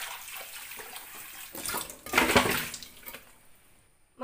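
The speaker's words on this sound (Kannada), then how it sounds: "ಫಸ್ಟಿಗೆ ಹೀಗೆ ನೀರು ಹಾಕಿಕೊಳ್ಳುವ" Water splashes from a tap into the inner pot of a multi cooker for washing, building to a loud gushing pour midway, then tapering off with a few drips.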